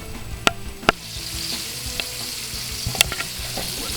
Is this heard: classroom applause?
no